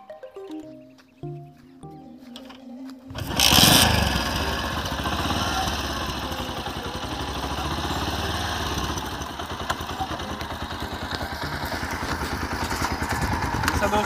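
A motorcycle engine runs in first gear on a flat, plain road, kicking in loud and close after a few quiet seconds and then holding a steady, rough drone.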